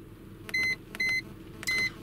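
Three short, clear electronic beeps from an iCarsoft CR Pro handheld diagnostic scan tool, evenly spaced about half a second apart over a faint background hum.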